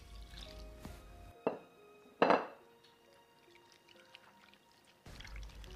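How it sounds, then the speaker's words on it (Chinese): Kumquats are soaked and rubbed by hand in salted water, producing quiet sloshing with a few sharper splashing bursts separated by near-silent gaps. "加入2勺食用盐，用清水泡搓5分钟。"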